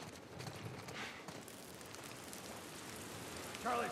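Steady rain in the game The Last of Us Part I, a soft even patter across the whole stretch, with a brief louder rise near the end and no talk.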